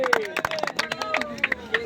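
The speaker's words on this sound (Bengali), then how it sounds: "হাততালি" Hand clapping from a group at a Bengali sound-system inauguration, sharp uneven claps repeating steadily over lively voices and crowd chatter.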